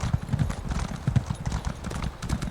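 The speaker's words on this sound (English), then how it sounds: "Hop on the horse here again." Horse hooves clip-clop in a steady walking rhythm in The Elder Scrolls Online game, fairly close and distinct, with faint game ambience beneath.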